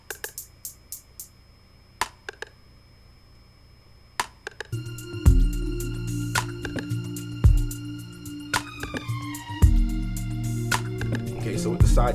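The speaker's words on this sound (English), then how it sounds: "And of course I got the side stick." Side stick clicks from an instrumental drum track, sharp woody ticks that tap sparsely at first, then continue over a fuller groove with deep kick and bass notes.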